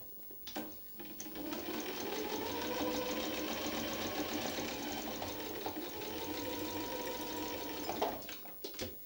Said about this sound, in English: Let's go sew our quadrant seam allowance carefully.